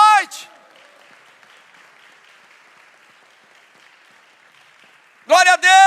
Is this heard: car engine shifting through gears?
no